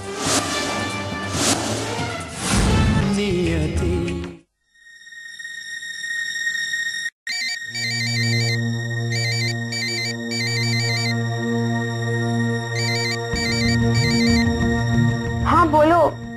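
A phone ringtone plays in a repeating electronic pattern of bursts, loud and steady after a short musical passage, with a brief gap in between.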